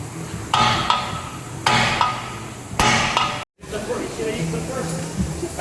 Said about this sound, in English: All right, so got the hammer. No purse today, so just gonna hammer it